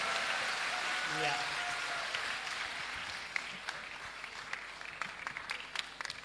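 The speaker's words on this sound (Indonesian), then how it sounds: "Beri tepuk tangan yang meriah bagi Tuhan" Crowd applause at a church service rings out loudly at first, then thins into scattered claps that fade over several seconds.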